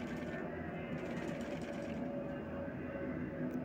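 A sewing machine stitching a side seam on a baby boy's kurta hums in one continuous, even run, fairly quiet and close, with no pauses.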